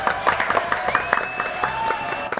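Audience applause for the singer, a dense patter of clapping with a voice or two rising over it near the end.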